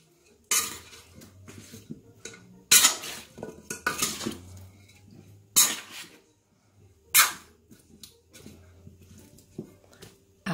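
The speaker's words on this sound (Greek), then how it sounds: "Και πάλι ανακατεύουμε." Roasted chicken with sweet potatoes being stirred in a 3.5-litre, 24 cm pot, heard as a few loud, separate bursts of utensil scraping and clanking against the pot with quiet pauses between them, close, no talking.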